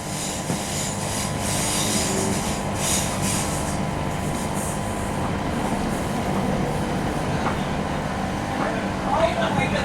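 A train approaching University station in Birmingham rolls steadily along the track with a continuous low rumble and rattling wheels, and a faint squeal rising near the end.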